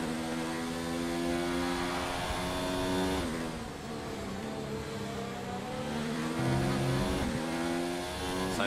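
A Formula 1 race car engine in the racing game F1 2019 howls at high revs, climbing through the gears with sharp upshifts and steady acceleration, loud and continuous with no talk.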